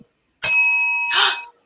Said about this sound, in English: It is the old AICC bell.